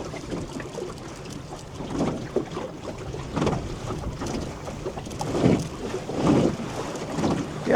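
Boat engine running steadily outdoors in blustery, miserable weather on a fishing outing, a low broad rumble with gusting wind buffeting the microphone and swelling in waves, no talk over it.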